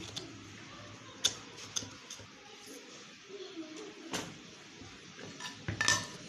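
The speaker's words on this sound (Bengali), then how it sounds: "এবার ছুরি দিয়ে একটু সাইডটা আলগা করে দিলাম" A knife scraping and tapping around the inside edge of a pudding bowl, a series of light metallic clinks and scrapes close by over faint background noise.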